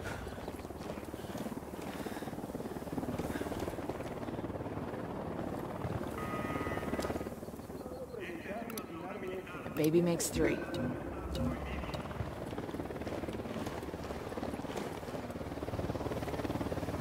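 A helicopter approaching in the game Ghost Recon Wildlands: a steady rotor rumble that builds under gunfire and a short burst of voices.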